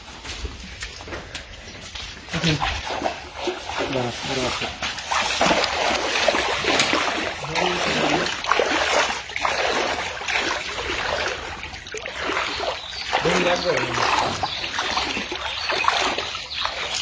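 Water splashes and gushes steadily on a flooded farm as it is drained, a continuous broadband wash with trickling and sloshing throughout, fairly close and loud.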